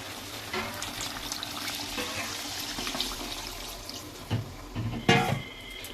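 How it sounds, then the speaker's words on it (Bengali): Water is poured into a pan of Kashmiri potato dum, giving a running, splashing gush over the simmering spiced gravy, close by, followed by a few louder splashes and bubbling sizzle near the end. "এইবারে এতে আমি পরিমাণ মতন জলটা দিয়ে দেব"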